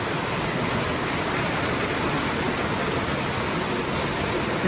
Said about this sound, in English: It's so loud with all the rain